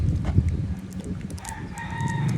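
A rooster crows in short, rising calls over rustling and handling noise, fairly close and moderately loud.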